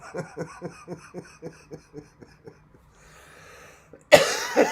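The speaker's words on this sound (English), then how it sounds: "Did I just cough out smoke, or was that the coffee?" A fit of about a dozen quick, rhythmic coughs gradually fades, then a sudden loud burst of noise cuts in.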